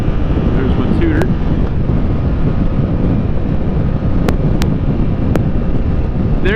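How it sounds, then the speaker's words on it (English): Steady wind buffets the microphone while riding a 2017 Yamaha FZ-07 upright naked motorcycle in third gear at around 50, a loud continuous rush with the engine hum beneath it. "There is a bit of wind, obviously, with it being an upright naked bike"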